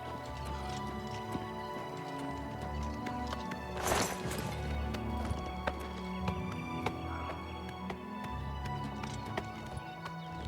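Clopping horse hooves under a busy soundscape from the video game Oblivion, with music and clashes, a sharp crash midway, and a horse briefly whinnying.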